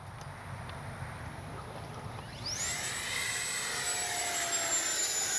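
An E-flite 64mm Viper RC jet with an electric ducted fan whines steadily overhead during a tail slide, the high-pitched rush shifting in pitch and growing louder partway through.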